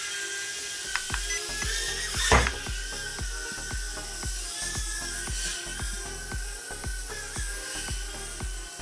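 Motors of a JJRC H36 mini drone whine at a high, steady pitch during a 360 flip, with rapid rhythmic pulsing as the throttle changes and a brief surge partway through, close and loud with no talking.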